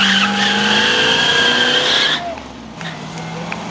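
A muscle car at a fall car show burnout contest spins its tires in a long, loud continuous squeal with engine roar, then cuts off abruptly leaving crowd murmur and distant engine hum.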